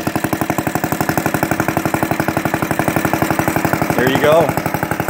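A cold-started Eclipse Racket reel mower engine idles steadily up close, its fast, even putter holding one rhythm, with a brief rattle and a slight rise near the end.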